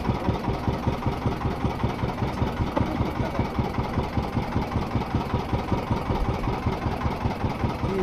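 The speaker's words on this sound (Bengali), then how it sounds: "সামনে বোটটা যাচ্ছে" An engine on a passing boat chugs in a steady, rapid low pulse, moderately loud and continuous over several seconds with no voices.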